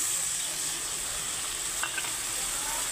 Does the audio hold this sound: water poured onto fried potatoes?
yes